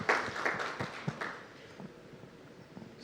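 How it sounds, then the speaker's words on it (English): Scattered applause from a conference audience greeting a volunteer, a few faint hands clapping in a brief burst that quickly thins out and fades to near silence. "At least we can give her a round of applause for volunteering."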